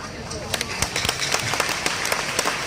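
Scattered, uneven clapping from an audience at a religious lecture, with a series of sharp individual claps over a low room murmur.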